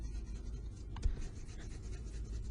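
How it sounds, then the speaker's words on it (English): A pencil eraser scrubbing across drawing paper, a soft continuous rubbing with a small knock midway, close and fairly quiet, with no talking. "let me erase those real quick"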